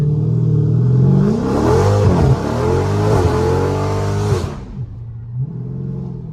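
A Dodge SRT engine revs hard and rises and falls in pitch as the car slides sideways through a neighborhood, loud and close, then cuts back to a lower rumble near the end.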